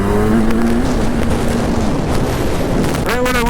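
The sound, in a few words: Kawasaki Z1000 motorcycle accelerating through gears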